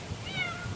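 A house cat gives one short, fairly faint meow outdoors during hurricane conditions in Broward County, with steady low background noise and no talk over it.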